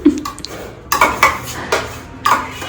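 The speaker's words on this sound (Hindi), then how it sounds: "बर्तन धुल रहे हैं" Dishes, pots and utensils being washed by hand in a home kitchen: a series of close metallic clanks and clatters, four or five sharp knocks with scraping between them, loud and with no voices.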